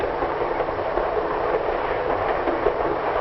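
A moving 1950s passenger train rattles steadily on its rails, a continuous loud rumble with faint clickety-clack from the wheels and no voices.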